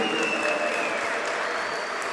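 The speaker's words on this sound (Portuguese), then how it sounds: "Salva de palmas para a organização" Applause from attendees of a traffic forum in Amazonas for the organizers, a full steady roar of clapping with a faint tonal whistle-like streak over it, constant in level.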